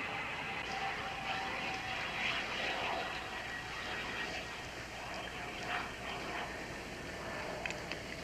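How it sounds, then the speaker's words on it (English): A steady, broad engine drone from an airplane fills the air throughout, even and continuous with a faint hum on top, heard over an outdoor setting with no talk. "Sort of like an airplane."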